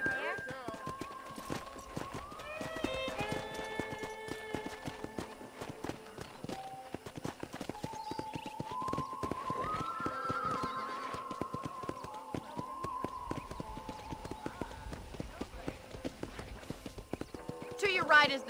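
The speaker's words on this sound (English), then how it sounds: "I picked out a fine horse for you." Horse hooves clip-clop through Red Dead Redemption gameplay as a horse is led around a ranch, a steady rhythm close by, with a brief whinny and game music running underneath.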